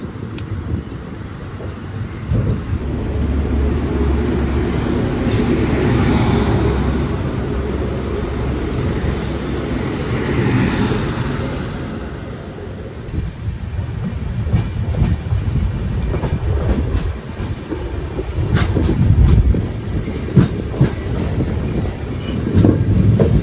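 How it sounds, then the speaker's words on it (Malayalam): Yesvantpur Weekly Express pulling away from Kuppam station, a steady loud rumble of wheels on rail with clattering and a few sharp squeals later, heard from on board with no talk. "കറക്റ്റ് 9:35 തന്നെ കുപ്പം റെയിൽവേ സ്റ്റേഷനിൽ നമ്മുടെ വണ്ടി ഡിപ്പാർട്ടായേ"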